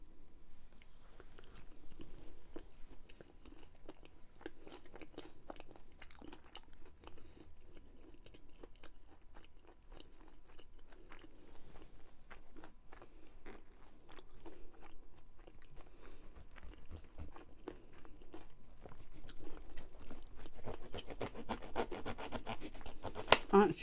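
Wet chewing and biting of cheesy chicken with cheesy mash and baked beans, close and steady throughout, with crunchy and squelchy mouth sounds and small scrapes that grow louder near the end.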